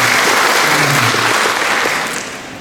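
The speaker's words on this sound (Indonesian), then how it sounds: "Tepuk tangan dulu buat semua." An audience at a basic training opening for civil service candidates breaks into loud, dense clapping, which tapers off toward the end.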